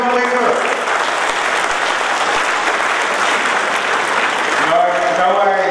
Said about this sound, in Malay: Tepukan kepada mereka.